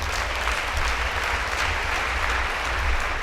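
A church congregation claps together during a sermon by a Rwandan pastor, a thick, steady wash of applause filling the room at moderate volume without pause.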